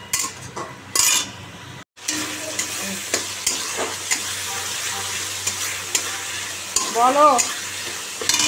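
Fish frying in a pan with black cumin, tomato, salt and slit green chillies, a continuous sizzle broken by a short pause, with scraping and stirring clinks, a brief spoken word and a faint voice near the end.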